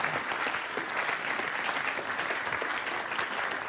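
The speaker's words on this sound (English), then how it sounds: "Give them a round of applause and they'll come and explain things to you" School children applaud the Hairy Bikers, a dense, even round of clapping from a room full of pupils sustained from start to finish.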